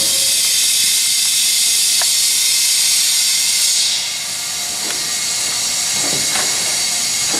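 Compressed air hisses loudly and steadily as it fills the counterbalances of a Bliss C2-100 100-ton double crank gap frame press, a constant broadband rush that dips slightly partway through, with faint clicks underneath.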